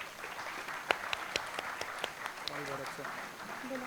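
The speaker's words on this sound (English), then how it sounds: "Give a big round of applause for him." An audience applauds at a business conference event, a moderate spread of claps heard somewhat distant, with a voice talking over part of it.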